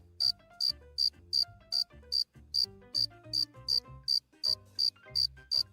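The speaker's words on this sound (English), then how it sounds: "he chirped the most beautiful sound that she had ever heard." A cricket chirps in a steady, regular rhythm, bright and clear, over soft tonal music underneath.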